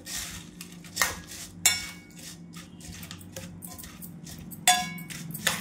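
A spoon scrapes and clinks against a bowl while bhel mixture is stirred with chutney, giving irregular metallic taps and sharp clinks over a quiet background.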